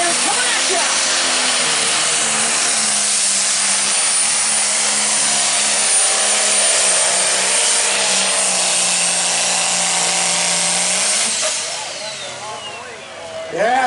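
A John Deere pro stock diesel tractor roars through a pull at a national tractor-pulling event: a loud, sustained engine blast with a steady droning pitch holds for about eleven seconds, then falls away as the run ends.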